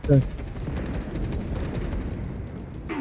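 Gunfire in the Warhammer 40k Space Marine II co-op game, a dense continuous rumble of shots and blasts running throughout, with a short loud burst at the start.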